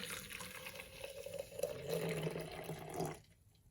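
Hot water pouring onto Thai tea mix in a container for a few seconds, a soft rushing and gurgling that rises slightly, then cuts off.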